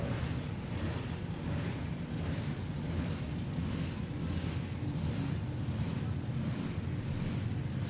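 A drag racing car's engine runs at a Hot Rod Reunion strip, a steady, dense mechanical drone with a pulsing low rumble that holds evenly throughout, fairly distant and unbroken.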